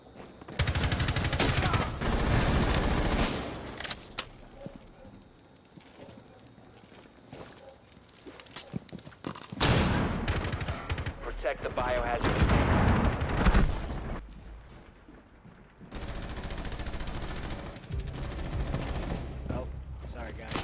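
Video game shootout with bursts of rapid automatic gunfire in several loud clusters separated by quieter gaps, with voices talking in between.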